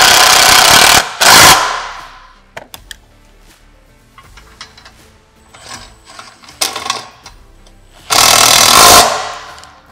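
A power tool tightens mounting hardware on a SuperATV Game Loader rack for a Can-Am Defender, with two loud bursts of buzzing impact at the start and end, shorter runs in between, and quiet clinks of metal parts.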